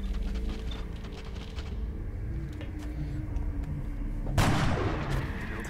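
Gunfire from a turn-based alien-combat video game, with a continuous rumbling battle bed and a sharp loud blast bursting out near the end, followed by a sustained crackling roar.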